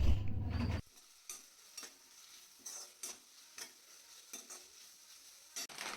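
Onion, carrot and capsicum stir-fried in a pan, a quiet sizzle with rhythmic spatula scrapes after a brief louder thump at the start, close and unaccompanied by speech.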